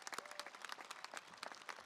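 Very faint, sparse claps from a graduation ceremony audience honoring retiring school district staff, individual hand claps distinguishable and distant.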